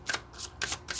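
Tarot cards are shuffled in quick riffling bursts, four brisk papery flutters close up, with no talking.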